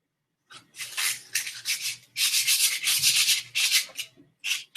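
Hand sanding with sandpaper, shaping a small handmade piece: bursts of dry, scratchy rubbing strokes, quiet and close, in short uneven runs with brief pauses between.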